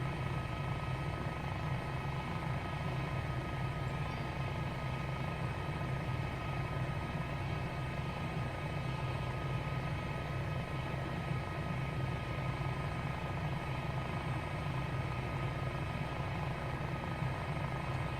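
An H125 helicopter in flight in a video game gives off a steady, unbroken rotor and engine drone that stays at an even level throughout, with no talking.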